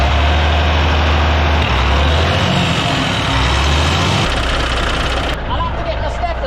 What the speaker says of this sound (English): why does it rattle so much? Where's that rattling coming from?